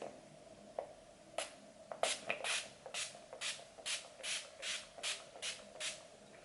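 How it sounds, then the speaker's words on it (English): A series of short, hissy bursts of makeup setting spray, about a dozen, coming in a steady rhythm after a few scattered taps, close and fairly quiet. "So I'm going to spray this."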